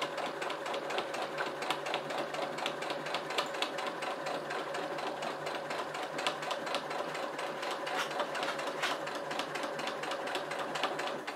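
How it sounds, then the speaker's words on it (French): A sewing machine stitches a seam on a fabric napkin holder, its motor droning steadily with a rapid, regular needle patter throughout, fairly soft and uninterrupted with no voices. "je fais bien mon point d'arrêt au début de ma couture"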